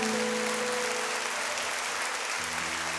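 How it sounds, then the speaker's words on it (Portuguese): A church congregation applauds during a Portuguese-language worship service, steady dense clapping filling the space, with a low sustained organ or keyboard tone underneath. "Você pode aplaudir o santo nome do Senhor."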